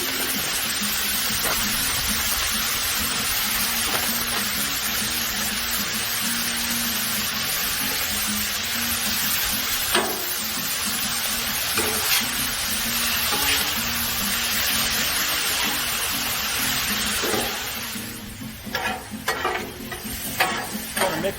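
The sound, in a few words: vegetables frying on a Blackstone griddle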